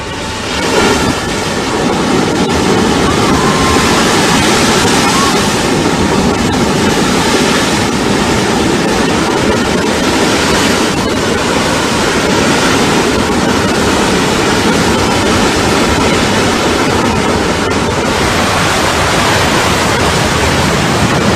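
Godavari River water lifted by the Kaleswaram Project gushes out of a delivery canal outlet, a loud, steady, broadband roar of rushing water that holds unbroken from start to end with no voices.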